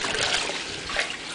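A grout sponge is rinsed and squeezed in a bucket of water, giving a close, continuous splashing trickle with a brief stronger slosh near the end.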